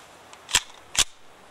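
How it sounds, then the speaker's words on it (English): A VMAC45 MAC10 submachine gun is charged, giving two crisp metallic clacks about half a second apart, close and fairly loud against a quiet background. "Charge the gun."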